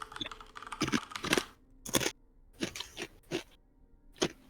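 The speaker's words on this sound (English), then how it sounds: "That's the noise of us stepping through the snow." Footsteps crunch through snow as a sound effect during a Curse of Strahd tabletop game session, with irregular, close crisp crunches coming in quick clusters and brief pauses between them.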